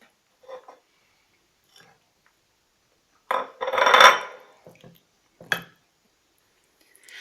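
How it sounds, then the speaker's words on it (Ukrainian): A spoon works raisins into whipped, cream-like cottage cheese in a bowl. A few short, close clinks come in the quiet stretches, then a louder scraping, stirring burst and another sharp clink near the end. "Тепер до нього додаємо ізюм і перемішуємо."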